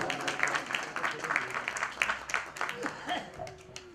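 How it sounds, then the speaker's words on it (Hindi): Scattered audience clapping after a Hindi musical group's song performance at a public library event in Delhi, fairly soft and uneven, with voices mixed in. "जोरदार तालियां।"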